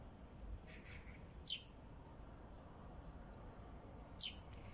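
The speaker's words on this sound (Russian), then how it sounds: "Слышите, вот воробушки чирикают." Sparrows outdoors in early morning give two brief, high chirps spaced a few seconds apart, faint and distant over a low steady background hum.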